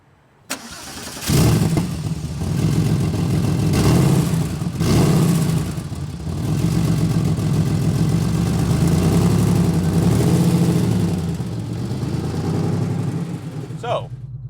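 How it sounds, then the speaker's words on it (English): A Porsche 964 engine cranks and fires after a moment of quiet, then settles into a steady, throbbing idle close by that holds for several seconds before a brief click near the end. "So, we've started the car"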